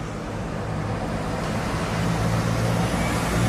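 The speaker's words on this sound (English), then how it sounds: "Let me open this window to see how the city sounds." City street traffic in Brazil drifting in through an open window, a continuous broad rumble and wash of passing vehicles at moderate distance with no talk.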